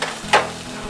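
Steady low sizzle of food frying in a pan, with a brief scrape of stirring partway through.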